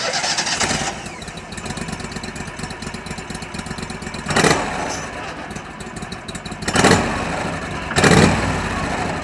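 An Argo Conquest 8x8 ATV engine cranks and catches, then runs at a steady idle close by, with several sharp revving surges partway through.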